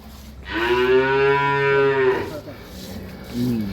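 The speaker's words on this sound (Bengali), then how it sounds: "এক দুধের গরু, এই যে দেখেন দেখেন" A dairy cow gives one long, loud, close moo lasting over a second and a half, with a short lower grunt after it.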